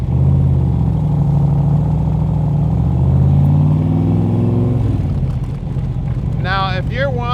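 A 1965 Shelby Cobra Backdraft V8 rumbling and revving, a loud, close, continuous engine drone that rises and then drops away, with someone talking over it.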